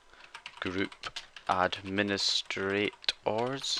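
A command is typed on a computer keyboard, with soft key clicks running beneath a voice as he speaks steadily throughout.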